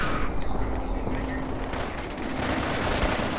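Rapid gunfire from a favored weapon in Fallout 4, played with the War of the Commonwealth mod in the Glowing Sea: a steady, dense stream of shots with little variation, loud and continuous throughout.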